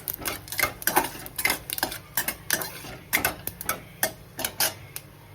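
Peanuts dropped into a mustard-seed tempering for phodnichya shevaya, stirred with a metal spoon, giving repeated sharp clinks and scrapes against the pan over a light sizzle, close and fairly busy.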